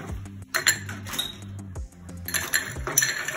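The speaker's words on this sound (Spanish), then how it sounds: "Agregamos hielo." Ice cubes drop into a cocktail glass while a Sazerac is being made, giving bright clinks and rattles in several close bursts as the cubes tumble and settle against the glass.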